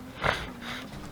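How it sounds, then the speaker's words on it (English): A person with allergies gives one short, close sniffle through the nose, a brief breathy snort over quiet room tone. "Sorry guys, I don't mean to sniffle."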